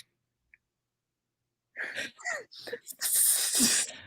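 After near silence, a voice makes a drawn-out, hissing, wheezy sound like an exaggerated sneeze, loud and close.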